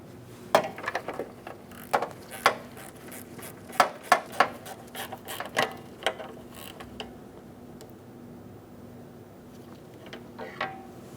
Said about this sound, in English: I'm going to continue on snugging each of these two bolts